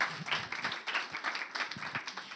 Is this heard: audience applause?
yes